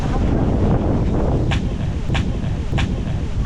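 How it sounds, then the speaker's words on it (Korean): A strong cold wind blows at an outdoor fish market during a cold snap, a steady loud rushing roar against the microphone with a few brief sharper hisses, no talking. "바람. 바람이 장난이 아닙니다."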